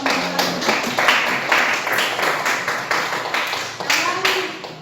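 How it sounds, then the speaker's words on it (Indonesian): A room full of people claps steadily for several seconds, a dense patter of hands with a few voices mixed in. "Beri tepuk tangan dulu."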